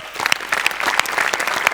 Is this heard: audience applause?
yes